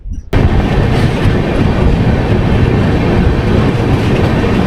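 A passenger train runs between Kharagpur and Jhargram, its loud, continuous rumble and rattle of carriages starting abruptly and holding steady and close throughout.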